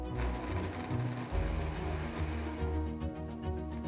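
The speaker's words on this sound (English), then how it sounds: "Now blend the onions into a fine paste." A blender purees onions into a fine paste, a loud continuous motor whir with a rough grinding texture that holds steady for several seconds before cutting off near the end.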